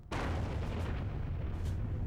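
A huge wartime explosion, the blast of a bouncing bomb against a dam that blew off tunnel doors, erupts as a sudden loud boom and then rolls on as a sustained roaring rumble.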